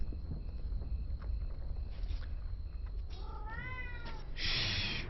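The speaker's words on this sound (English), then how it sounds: "Sorry for the cat sounds." A cat meows a few times at moderate distance, its drawn-out, rising calls coming near the end over a low background rumble.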